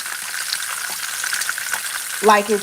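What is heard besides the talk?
food frying in pan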